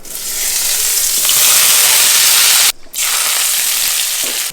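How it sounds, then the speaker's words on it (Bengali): Boiled young jackfruit frying in a hot pan, a loud continuous sizzle with a brief break midway before the hiss resumes, no talking. "এঁচোড়টাও আমি ফ্রাই করে নিচ্ছি"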